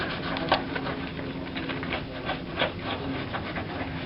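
A soft-bristle toothbrush dipped in distilled water scrubs a surface in quick, repeated back-and-forth strokes, close and moderately loud, with scratchy rubbing pulses throughout.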